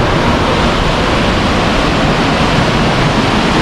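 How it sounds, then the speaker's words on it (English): The Jal Dhaka river rushes steadily at an international boundary in Jhalong, North Bengal, during the monsoon. It makes a loud, constant broadband roar of flowing water with no talk and no breaks. "This is the Jal Dhaka river"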